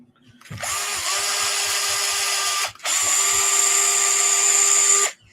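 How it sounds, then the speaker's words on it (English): A DeWalt driver spins up with a high, steady whine, runs for about two seconds, pauses briefly, then runs again for just over two seconds, loud and close with no talking. "I love this DeWalt driver."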